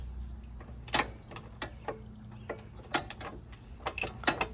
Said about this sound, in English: I'm hoping I can just take this bolt out